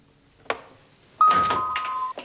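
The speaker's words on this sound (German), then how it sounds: "Ich habe Sie am Klingeln erkannt. Es war unüberhörbar." A doorbell rings with a sustained electric buzz of about a second after a sharp thunk, followed by another knock, in an otherwise quiet room.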